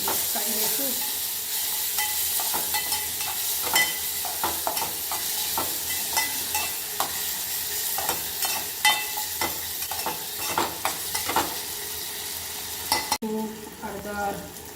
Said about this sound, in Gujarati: ટામેટા, બરાબર આપણે મિક્સ કરી દઈશું.